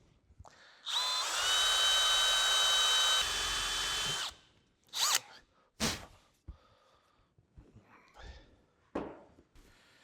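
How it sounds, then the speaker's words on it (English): A power drill runs in reverse against a bolt during an Emmert 6A toolmaker's vise reassembly, giving a steady high whine for about three seconds, followed by scattered clanks and handling knocks. "we will put our drill in reverse and see if we can't get lucky"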